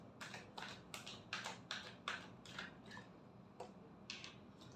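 Tarot cards being shuffled by hand give a quiet series of crisp, papery riffles and taps, about a dozen short bursts in an uneven rhythm, close and soft.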